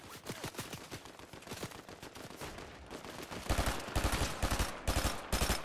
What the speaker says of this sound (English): Yo, I love this shotgun, bro. This shotgun is so good.